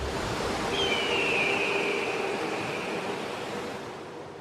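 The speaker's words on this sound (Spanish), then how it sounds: "Este es el río Colorado." The Colorado River flowing, a steady broad rushing of water that holds even throughout and fades slightly at the end, with no voices.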